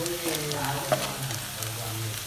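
Garlic fries in butter in a pan for a creamy white sauce pasta, giving a brief, low, steady sizzle with a light tap or two of a stirring spoon.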